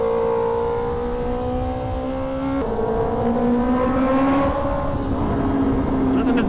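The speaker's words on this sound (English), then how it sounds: "Doesn't this bike sound nice?" A Honda CBR650R motorcycle engine runs while riding, its smooth inline-four tone climbing through the revs, dropping at a gear change and rising again, loud and close with wind rush beneath.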